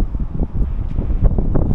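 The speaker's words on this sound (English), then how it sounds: "But it is bloody windy." Strong wind at Mount Gambier rumbles and buffets the microphone in a low, continuous roar, loud and close.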